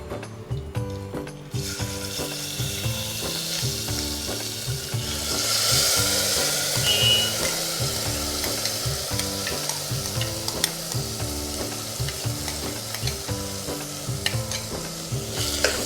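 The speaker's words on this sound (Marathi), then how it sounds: "तांदूळ थोडेसे भाजून घ्यायचे आपण त्याच्यामध्ये परतून घ्यायचे" Washed rice is stir-fried in oil with mustard seeds and turmeric, a steady, close sizzle broken by stirring scrapes, while a rhythmic musical backing plays underneath throughout.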